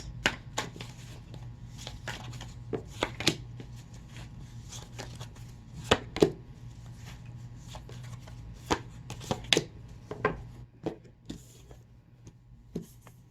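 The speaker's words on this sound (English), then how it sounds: "Let me pull a few more cards." Tarot cards being shuffled and pulled make a series of crisp, close riffling flicks and taps in irregular bursts over a low steady hum, with a faint voice now and then.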